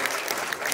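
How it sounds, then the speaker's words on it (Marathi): A short burst of dense, steady applause from a school audience at a children's poetry gathering, heard from inside the hall. "संस्था चालकांना सर्वांसाठी आपण एका टाळ्या देऊया."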